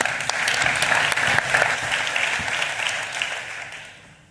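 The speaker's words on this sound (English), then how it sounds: "a round of applause for Mick," An audience applauds a speaker at a business talk, with dense, steady clapping throughout that holds at a loud level before tapering off near the end; no speech.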